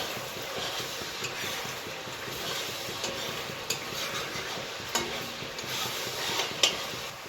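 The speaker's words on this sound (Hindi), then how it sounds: "ये हमारे मसाले भून गए हैं" Ground spices fry in a pan for chicken biryani, giving a steady, fairly close hiss and sizzle broken by occasional sharp scrapes and taps of a stirring spoon, with no one talking.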